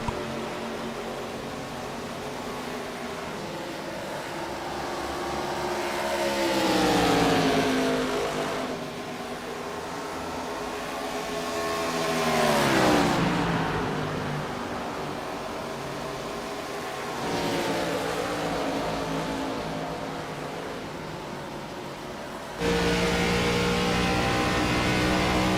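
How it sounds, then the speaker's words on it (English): ARCA stock cars race around Homestead in the closing laps, engines rising and falling in repeated passes, each roar climbing in pitch then sweeping down as cars blast by, with a loud burst near the end. "As we're at 30 to go, these guys are really going to start pushing these cars"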